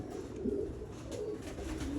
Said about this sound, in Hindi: ये पहचान है उस्ताद मियां नज़ीर वाले डब वाले कबूतर